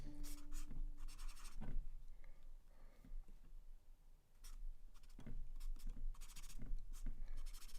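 A big black pen scratches across paper in short bursts of scribbling strokes, close and quiet, with pauses between the writing during a live piano lesson.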